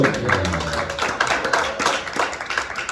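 Audience applause at a small café music evening, continuous close clapping from a modest crowd that fills the whole stretch at steady loudness with no talk.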